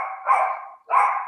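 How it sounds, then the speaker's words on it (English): A half Beagle, half Australian Shepherd puppy gives two loud, close, drawn-out high barks with a short gap between them. "So that's our Christmas puppy"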